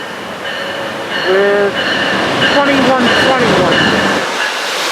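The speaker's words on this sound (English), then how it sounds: "Our first train of the day is train 777. Now stopping here on its way to Oxnard" Passenger train 777 pulling into Camarillo station on its way to Oxnard, with loud squealing wheels and brakes, rumbling railcars and tonal whines close by as it slows, and a voice speaking briefly.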